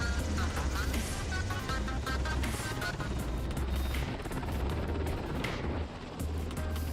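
A Black Hawk helicopter's engine and rotor roar steadily up close during an autonomous takeoff, with a deep rhythmic thumping throughout and a voice speaking over the noise.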